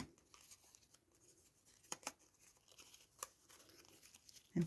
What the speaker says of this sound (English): And I'm going to cut that bit